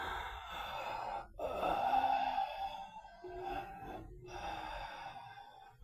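A sharp in-drawn gasp followed by held, tense breathing, close and fairly quiet, with faint tonal sound in the background.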